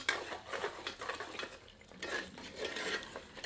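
Mutton korma with spices is stirred and fried in a pan over medium heat: a soft, continuous scrape of a spoon against metal with a low sizzle beneath, fairly quiet.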